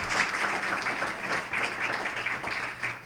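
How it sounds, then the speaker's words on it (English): Steady applause from an audience at a Rotary awards ceremony fills the whole stretch, dense and even with no voices rising above it. "That's the easiest applause I think I've ever had"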